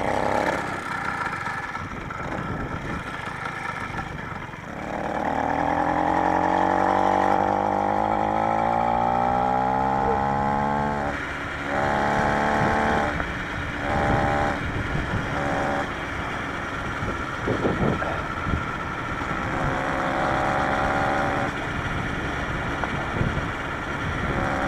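A small motorized bicycle engine is started and then runs with a buzzy, rising two-stroke drone that revs up and down, heard up close with some wind noise.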